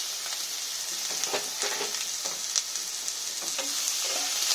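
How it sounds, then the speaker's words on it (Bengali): Snake gourd, pointed gourd and fish sizzle in an uncovered pan. A continuous frying hiss runs throughout, with a series of light stirring scrapes scattered across it. "লাল লাল করে আমার একদম ভাজা হয়ে গেছে।"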